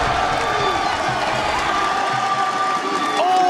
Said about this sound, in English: The wildcard crowd is starting to get on their feet.